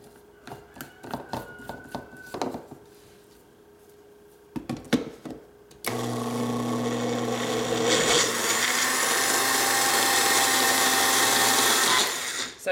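Strawberries and honey in a kitchen blender: a few clicks and taps first, then the motor starts with a sudden loud whir and holds a steady, close grinding roar for about seven seconds before cutting off.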